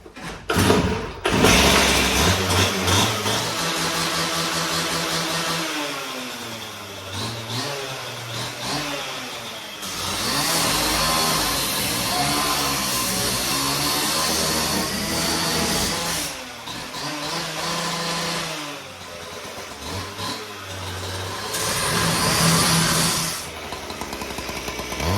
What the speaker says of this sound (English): Let's get a bit of two-stroke going